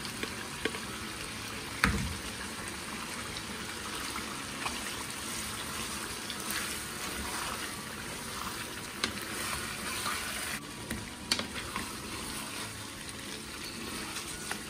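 Garlic and green chili paste frying in oil in a karahi for dhaba-style chicken karahi, a steady close sizzle and crackle running throughout with a few brief louder pops, no voices.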